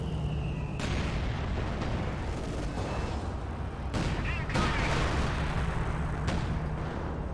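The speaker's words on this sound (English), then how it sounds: "Panzer IV could fire to devastating effect now." Tank cannon and artillery fire in the strategy video game Company of Heroes 2, heavy booms and blasts cutting in at intervals over a dense, continuous battle rumble.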